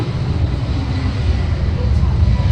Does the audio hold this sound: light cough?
no